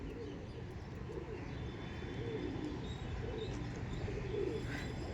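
Old-line UP/Rajasthani Giribaj pigeons coo faintly in a row of soft, repeated rolling calls beneath a steady low background hum.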